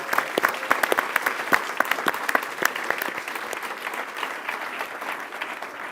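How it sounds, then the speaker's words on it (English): Audience applause at a financial services industry event, a dense steady patter of many hands clapping together, loud and sustained throughout with no talk over it. "I want all of you to give a huge round of applause to our media and marketing team"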